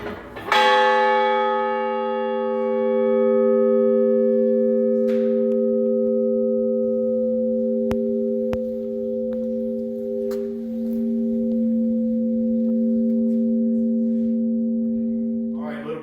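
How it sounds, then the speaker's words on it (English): A firehouse bell at the Allison Hook & Ladder station in Pennsylvania is struck once to call members to a meeting, giving a loud, clear metallic strike that rings on in a long, steady sustained tone for the rest of the clip, alone without talk. "every meeting night, the bell gets rang one time to call the guys to the meeting night"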